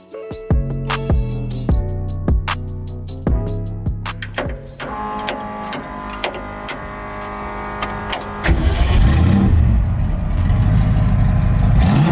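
A supercharged 1965 Ford Mustang engine roars as a steady, loud broadband rumble in the final few seconds, after a stretch of plucked musical notes.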